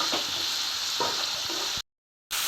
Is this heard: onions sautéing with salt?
yes